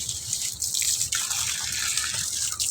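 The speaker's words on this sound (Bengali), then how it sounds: "তো গাছে জল দিয়ে দিলাম" Water is poured onto potted plants, producing a soft, steady splashing and trickling close by with no voices.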